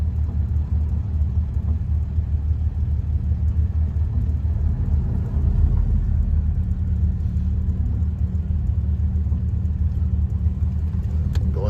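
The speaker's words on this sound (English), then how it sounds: "It's not really an idle," A 1956 Jaguar Mark VII engine running in gear at a low, near-idle speed, heard close as a steady, smooth deep rumble and hum with no change in pitch throughout.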